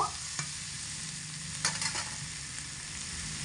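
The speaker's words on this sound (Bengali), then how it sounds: "তো আলু আর কুমড়ো কষানোর সময় এখানে আমি আরও 3টে মশলা আমি অ্যাড করে দেব।" Potatoes and pumpkin stir-fried together with spices in a pan for a vegetarian pumpkin dish, giving a steady close sizzle with a few louder scrapes of stirring, no talking.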